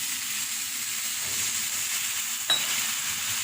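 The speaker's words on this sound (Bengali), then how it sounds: "আমি এটা একটু ক্যারামেল করে নেব" Sugar and water cooking into caramel for a pudding bubble with a steady, soft sizzling hiss throughout, with one brief sharp tap near the end and no talking.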